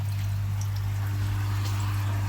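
Water pouring from a container at a koi pond, a steady trickling splash over a constant low hum of pond equipment, close and continuous.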